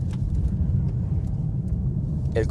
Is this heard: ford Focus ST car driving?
yes